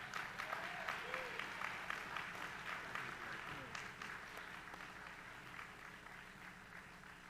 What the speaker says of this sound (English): let's give a round of applause for our keynote speaker, Mr. Jeffrey Robinson.